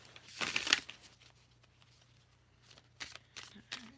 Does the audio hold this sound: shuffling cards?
yes